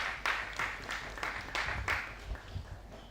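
Audience applause at a symposium, a scattered burst of clapping from a crowd lasting a few seconds, with a few louder claps standing out.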